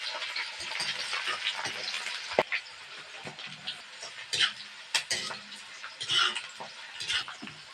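Curry leaves, garlic, ginger and green chili frying in oil in a pan for lemon pickle, a close, steady hiss and crackle with occasional stirring scrapes and pops.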